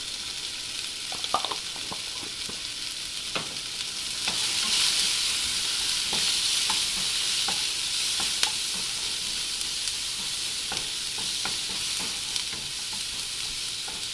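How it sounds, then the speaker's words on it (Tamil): Onions with a little turmeric powder frying in a pan: a steady quiet sizzle runs throughout, broken by scattered clicks and scrapes of stirring, with no voices. "இப்போ இது வெங்காயம் கொஞ்சம் வதங்கினதுக்கு அப்புறம் கொஞ்சோண்டு டர்மரிக் பவுடர், மஞ்சத்தூள் கொஞ்சோண்டு ஆட் பண்ணிக்கணும்."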